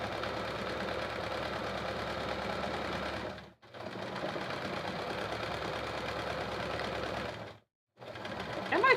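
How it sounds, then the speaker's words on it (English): A sewing machine stitching free motion quilting, a steady fast mechanical whirr and needle chatter running continuously with two brief pauses, close and loud with no voices. "my thread is kind of looking weird going through the needle, so I think my machine's kind of over this quilting project"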